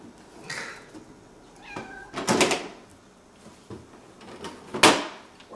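A three-legged cat meows indoors, a few short, faint mews mixed with louder door or drawer bumps and rustling nearby, no talk.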